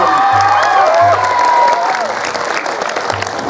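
Applause and cheering from a crowd honouring Quran-reciting students at a lively Sundanese religious sermon, loud and continuous, with whistling tones and voices shouting over the clapping throughout.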